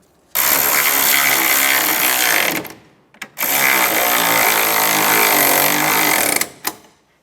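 A power tool runs up tight on exhaust manifold bolts of a 2007-2013 Mini Cooper, making two long, loud, steady whirring bursts separated by a short pause, with a brief tail at the end.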